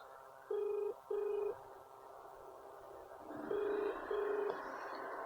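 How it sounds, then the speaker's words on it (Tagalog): Phone ringback tone while calling a number, four evenly spaced steady beeps in two pairs, fairly faint over a low background hum. "Meron na tayong tinatawagang number."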